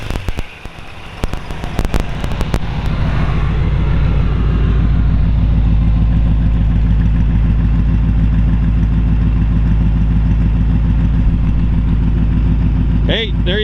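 A 1938 Ford two-door bustle back sedan with a flathead V8 revs up loud and close, then settles into a steady, throaty idle that runs on with a brief rise near the end.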